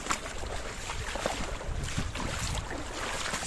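Water splashing through a shallow stream bed at Swallowhead Spring, a continuous broadband wash with wind noise on the microphone, close and steady throughout with no talk.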